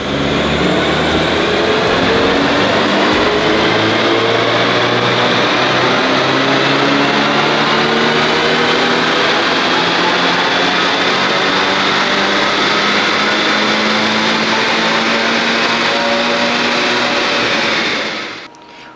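A Gen 1 Scion FR-S 2-liter flat-four with aftermarket exhaust and 4.44 final drive screams through a dyno pull, its loud engine note rising steadily in pitch for about eighteen seconds before cutting off abruptly.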